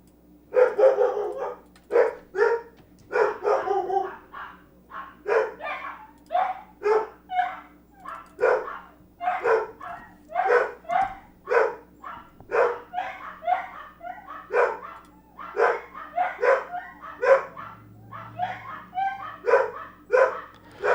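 Several dogs bark and yip indoors in rapid repeated bursts, loud and near, with a constant low hum beneath and a brief whimper late on.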